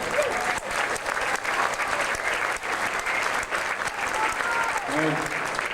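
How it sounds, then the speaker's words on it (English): A school audience applauds the a cappella choir and chorus musicians with steady, full clapping for several seconds, and a voice speaks faintly over it near the end. "Please give them a round of applause."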